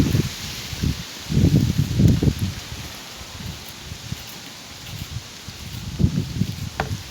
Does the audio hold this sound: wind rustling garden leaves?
yes